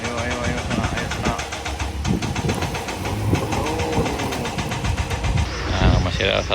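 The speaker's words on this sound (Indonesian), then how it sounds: "Nah, masih ada satu motor lagi nih sana." Motorbike engine revving and idling as it climbs a steep wooden ramp at an outdoor challenge, a steady buzzing drone with rising strains, while people shout and talk over it.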